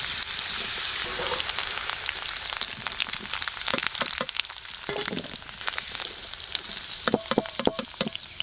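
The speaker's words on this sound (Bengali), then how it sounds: "এই দেখুন এইভাবে ভেজে নিতে হবে।" Young jackfruit pieces frying in oil in a pan, a continuous close crackling sizzle with scattered sharp pops and occasional stirring sounds.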